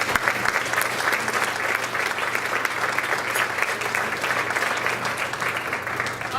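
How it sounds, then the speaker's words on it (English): Sustained, loud applause from a hall of fame ceremony audience, dense steady clapping filling the hall throughout with no talk over it. "I'd like to give Kim a round of applause"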